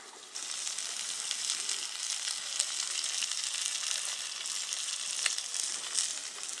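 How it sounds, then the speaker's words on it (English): Onions frying in a pan on a collapsible stainless steel wood-burning rocket stove, a steady, bright sizzle that starts abruptly and holds at an even level throughout, close by with no talking. "Toss in my onions, because I like my onions burned."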